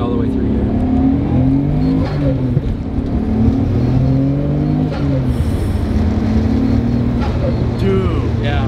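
A Nismo-tuned Nissan Skyline R32 GT-R accelerates on the road, its engine droning loud and close as revs climb and drop through several gear changes, with voices faintly mixed in.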